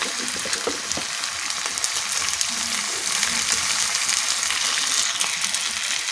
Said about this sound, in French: Je fais revenir les oignons. J'ajoute les poivrons.